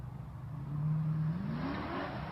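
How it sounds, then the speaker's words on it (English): A McLaren doing donuts, its engine revving in a rising, steady whine that swells and holds for a couple of seconds, heard from a moderate distance. "he's doing a few little cheeky donuts"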